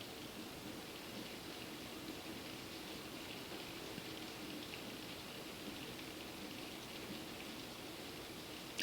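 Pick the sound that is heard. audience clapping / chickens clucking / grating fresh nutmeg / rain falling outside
rain falling outside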